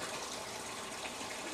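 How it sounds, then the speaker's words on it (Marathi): Water pumped by a single-phase open-well motor pours into an overhead storage tank, a steady, even gushing splash that stays constant throughout without speech. "आता मोटर चालू झाली आहे म्हणजे खालच्या टाकीमध्ये पाणी आहे आणि वरची टाकी आता भरती आहे"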